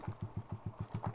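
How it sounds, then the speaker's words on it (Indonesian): A motorcycle held in second gear for engine braking on a downhill road through clove plantations, giving a low, steady, rapid thumping pulse, close and alone. "kita pakai gigi dua aja, guys, biar kayak engine brake"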